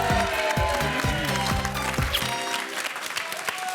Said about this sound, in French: Voilà, ça s'applaudit.